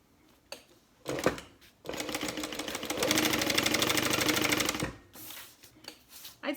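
Sewing machine basting around the edge of a handbag: a few brief clicks and knocks, then a continuous loud rattling run of about three seconds before stopping, followed by light handling taps.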